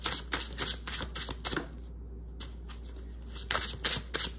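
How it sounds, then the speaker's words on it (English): Tarot cards are shuffled in quick riffling bursts, pausing briefly in the middle before the crisp flapping resumes, close up against a low background hum. "I'm going to shuffle these again real quick."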